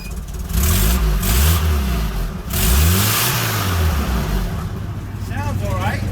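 A Jeep DJ5 engine runs and revs in repeated rising and falling swells, loud and close, with a rough mechanical roar and some outdoor noise.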